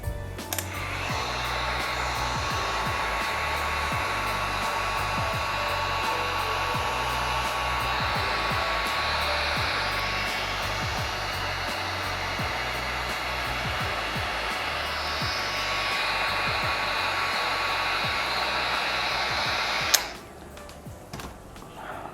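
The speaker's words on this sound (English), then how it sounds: "So I'm gonna heat it up right now." A heat gun warming vinyl wrap on a car door handle, a steady loud blowing whine held for about twenty seconds before it is switched off, leaving faint room noise.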